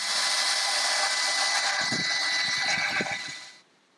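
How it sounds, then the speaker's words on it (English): A power grinder runs on bare metal flanges of a car body, a loud continuous high whine with a few rougher bursts before it cuts off and winds down near the end. "we're going to grind these, weld what needs to be welded up, grind our welds"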